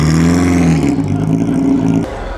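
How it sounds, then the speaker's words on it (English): A small Ferrari sports car at the Mille Miglia road race rolls close past with a loud, throaty engine note that rises and then drops away over a couple of seconds, with a brief clatter near the end. "Tight little Ferrari came in."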